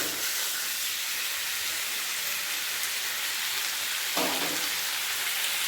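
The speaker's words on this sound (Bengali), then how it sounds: "গ্যাসটা বাড়িয়ে রেখেছি চিকেনটা একটু ভেজে নিয়েছি" Chicken fries in a pan over a high gas flame, giving a dense, even hiss like steady rain, broken once by a brief low knock near the end. No one talks.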